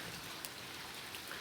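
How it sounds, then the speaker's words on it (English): Steady rain falls on a surface in a soft, continuous patter of drops, fairly quiet and unbroken, with no voices. "If today was not raining,"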